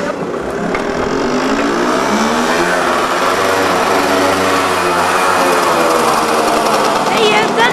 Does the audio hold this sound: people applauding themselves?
no